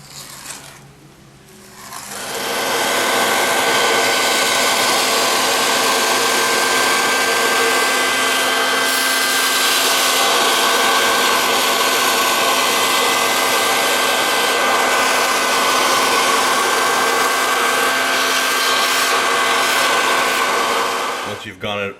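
Vacuum cleaner sucking over freshly laid HO scale model railroad track ballast, a loud steady whining roar that starts after a brief quiet moment and runs continuously at close range before cutting off at the end.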